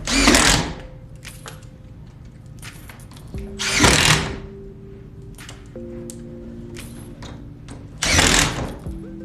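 A power drill drives screws into a gutter valley screen, with three short, loud whirring bursts spaced a few seconds apart and quieter mechanical hum and clicks in between.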